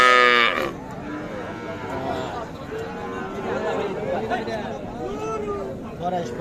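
Young bull and heifer calves moo repeatedly, several voices overlapping, amid the murmur of a busy crowd chattering at a cattle market.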